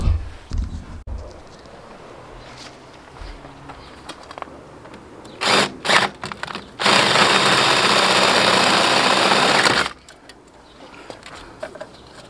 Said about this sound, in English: I'm going to have to drill it out.